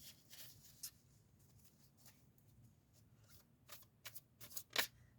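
Tarot cards are cut and shuffled close by, quiet soft riffles and slaps in brief bursts, growing busier toward the end.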